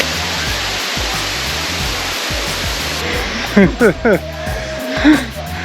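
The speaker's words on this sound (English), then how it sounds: "A river running through as well." A river flowing through lush jungle in Sideman, Bali gives a steady, loud broadband rush throughout, with a voice and a few brief sounds of activity near the end.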